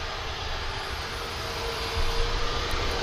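Ryanair airliner landing at Manchester Airport, arriving from Milan, a continuous jet engine roar that swells slightly toward the end.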